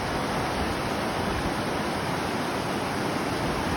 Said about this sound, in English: I've got this in my backyard, a raging river.